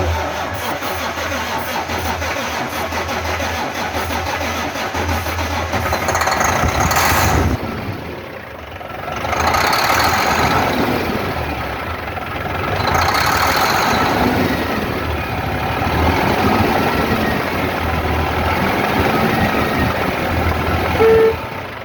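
Diesel engine of a Volvo VNL truck fitted with a replacement Detroit 12.7 engine, cranking and catching, then running and idling with a steady rumble and surges in revving, close by and loud, with no talk.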